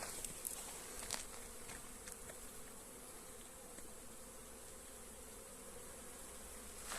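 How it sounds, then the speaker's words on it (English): Honey bees buzzing at the front of the hives on a sunny day, a steady, dense hum from many insects with a few louder fly-bys close to the microphone, continuous for several seconds with no talking. "And they're busy, busy, busy bees."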